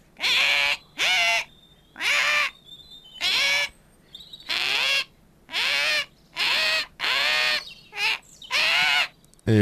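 A bird in a Bibi Blocksberg video game repeats loud, harsh cawing calls about ten times in a regular rhythm, each burst separated by a short silence.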